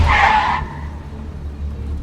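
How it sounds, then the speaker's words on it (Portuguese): A car skidding under hard braking, a loud harsh tire screech in the first half second that cuts off into a low steady rumble of road and cabin noise. "O carro derrapou um pouco"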